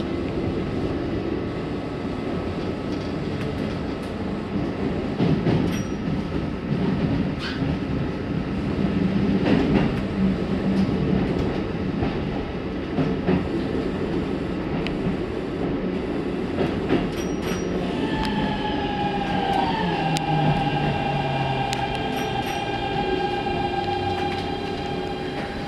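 Keikyu New 1000 series train rolling into Aoto terminal, steady loud rumble of wheels and car noise with clicking over rail joints, then brake whine and squeal as it slows, no talking.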